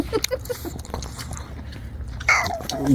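Someone chewing food at a winter beach campsite, a few soft crunching bites and wet mouth sounds close by, with faint background noise and a brief scrape near the end.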